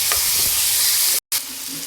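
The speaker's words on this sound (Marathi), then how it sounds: "मी अगोदरच टाकते मिरची आणि नंतर टमाटर टाकते, कारण फोडणी चांगली बसते" Green chillies, then tomatoes, hit hot tempering oil for a cauliflower sabzi, producing a loud, close, continuous sizzle with one brief dropout midway and no voices.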